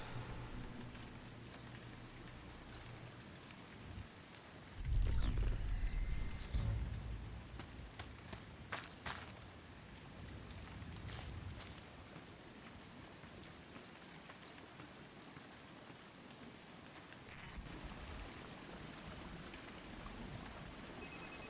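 Steady rain falls at night in the video game République, a constant hiss of drops with a louder splashing burst partway through and a few sharp ticks, with no voices.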